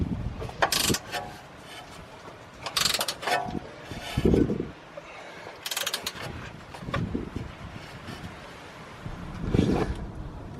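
A ball joint nut on a BMW E60 control arm is tightened, with irregular bursts of ratcheting and metallic clanks separated by short pauses, close and moderately loud.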